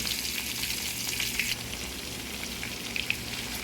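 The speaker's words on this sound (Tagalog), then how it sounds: "Ipiprito muna natin yung hipon." Shrimp frying in melted butter in a pan gives a steady, close sizzle with a few small pops and crackles scattered through, with no voices.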